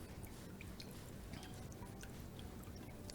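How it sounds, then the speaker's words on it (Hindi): Excess soaking water is poured off phulki in a kitchen while making a tadka phulki dish, giving a faint, continuous watery trickle with small drips and splashes and no speech. "अब ये एक्स्ट्रा पानी हम निकाल देंगे"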